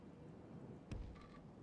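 Rain falling in a Third Age Total War battle, a soft steady hiss with a brief low thunder rumble near the middle, faint and distant.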